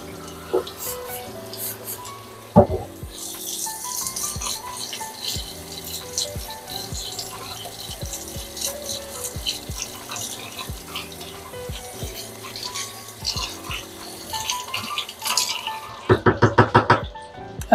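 Kitchen items are washed under a running tap, with a steady stream of water, clinks and knocks of dishes, and a short burst of rattling near the end.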